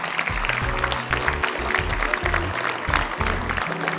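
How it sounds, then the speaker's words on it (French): An audience applauds at a New Year greetings ceremony for residents, sustained moderate clapping from a room of people, with music or voices faintly mixed underneath. "Vous pouvez les applaudir parce que c'était une performance."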